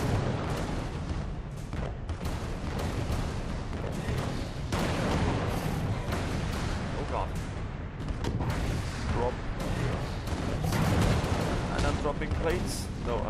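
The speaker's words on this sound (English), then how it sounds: "No, I'm dropping bombs." Bombs dropped by the player explode in the video game Alice: Madness Returns, a dense run of booms and blasts layered with game effects and music, loud and busy, with someone talking over the action.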